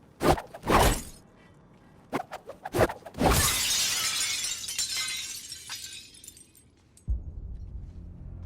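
A pane of glass shatters in the Suicide Squad: Kill the Justice League video game, with sharp impacts before a loud crash and a long glittering spray of falling shards that fades, followed by low rumble.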